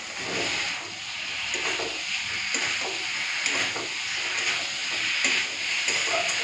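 Potatoes and cauliflower with peas fry in a spice masala in a kadai, a steady close sizzle and hiss broken by scraping stirring strokes throughout, with no talking.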